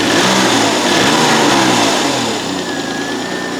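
A Citroen XM 3.0 24V engine runs at a steady rev, a loud close mechanical drone that eases down slightly toward idle near the end.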